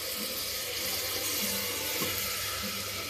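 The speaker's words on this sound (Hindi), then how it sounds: "तो थोड़ा सा पानी डालेंगे।" A steady splash of water pours close by into a cooking pan of onion, garlic and tomato, continuous and even, with no voices.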